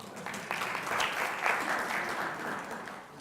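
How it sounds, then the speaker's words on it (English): An audience at a bicentennial celebration gives a short round of applause, a moderate, steady wash of many hands clapping that eases slightly near the end. "Let's give him a big round of applause"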